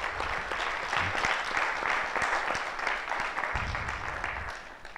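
A conference audience claps steadily in a sustained round of applause that gradually thins out near the end.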